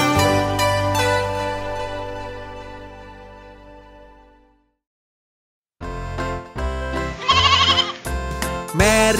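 Sheep bleats sound within a children's song about a little lamb, a long wavering cry followed by a pause and then a series of bleats over loud music.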